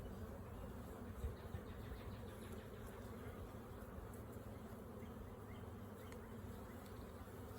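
Honey bees buzz steadily at an open hive during a spring check, forming a dense, continuous close-up drone without a break and with no voices over it.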